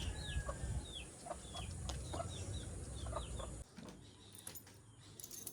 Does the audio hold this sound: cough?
no